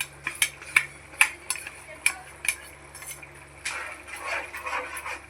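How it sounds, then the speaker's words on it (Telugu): A spoon stirs a cluck bean curry after peanut paste goes in, with sharp rhythmic clinks against the metal pot, then a softer scraping swirl and a faint simmer, close and clear. "బాగా కలుపుకోవాలండి."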